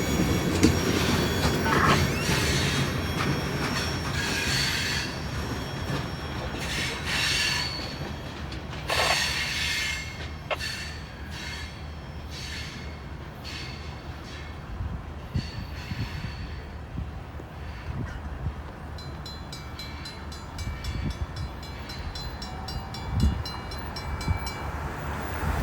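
A westbound loaded rock train hauled by GE locomotives rolls through downtown Sardinia, Ohio, a steady rumble of wagons and wheels with clicking joints and occasional squeals, passing continuously close by.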